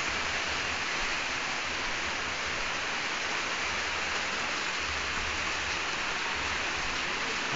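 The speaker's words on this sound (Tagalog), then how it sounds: "Malakas ang ulan." Heavy rain pours steadily at a resort in Lian, Batangas, a dense continuous broadband hiss that holds even and fairly loud throughout, with no voices.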